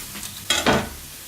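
Vegetables being put into hot olive oil in a pan, two short sizzling bursts of frying, close and fairly quiet, with no talk over them.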